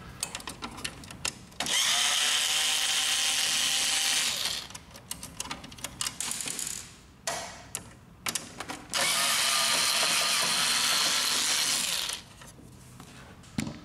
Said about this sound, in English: Remove these two screws.